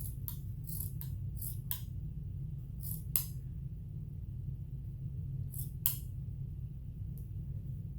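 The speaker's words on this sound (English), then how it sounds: "So now I'm going to flip this over, and I have another spot over here where I need to cut my fold." Scissors snipping through folded shirt fabric in several short bursts of quick cuts, close and crisp, separated by pauses over a low background hum.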